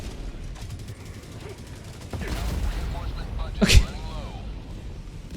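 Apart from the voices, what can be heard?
artillery barrage explosions in Helldivers 2 video game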